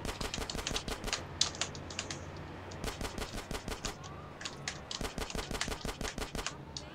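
Rapid bursts of automatic gunfire crackle in GTA San Andreas, sharp repeated volleys of shots in quick rhythmic strings with brief pauses between them, loud and dominant throughout.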